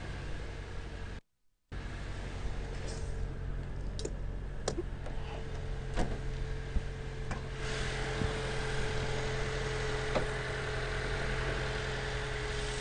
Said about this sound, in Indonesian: Untuk mesin pun masih luar biasa, masih langsam suaranya.